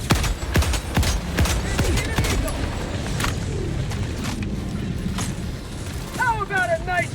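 Helldivers 2 combat against bugs, with bursts of gunfire, mechanical clatter and distant booms mixed under a player talking.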